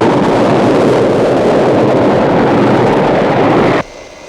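Airliner in flight on approach to Copenhagen International Airport, a steady loud broadband roar of cabin and engine noise that continues evenly, then drops sharply to a quieter hum near the end.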